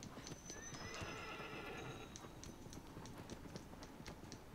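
Horse in Shadow of the Colossus, a steady clip-clop of hooves with a whinny near the start, moderately close over a soft background rumble.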